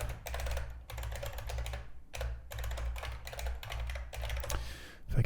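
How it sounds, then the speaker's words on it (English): Fast typing on a computer keyboard, dense runs of key clicks broken by brief pauses, close and steady with no voices. "If I could type, it would help."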